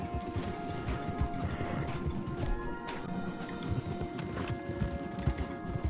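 Horse hooves clip-clop in Red Dead Redemption 2 as riders move into the trees, a steady run of near thuds and knocks over game music, with a few louder crashing hits.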